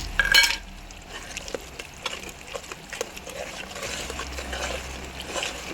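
Masala for an anchovy fish pickle being stirred in a pan, giving faint, scattered scraping and soft sizzling taps with a brief louder clatter at the start, low and close.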